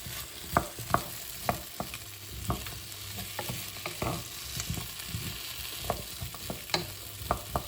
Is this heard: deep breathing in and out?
no